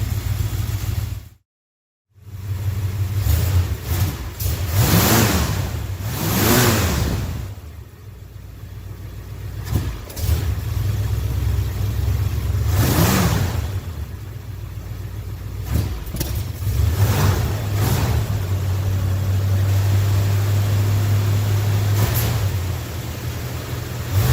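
A 1968 Dodge Polara with a 318 V8 idles steadily while warming up after standing for weeks, a close, continuous low rumble with a few brief rises in revs and one short gap near the start.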